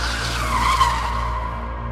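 A car skids to a stop in a Hindi audio drama, a sustained tire squeal over a steady engine rumble that swells briefly and then fades as the vehicle halts, loud and close with no talk over it.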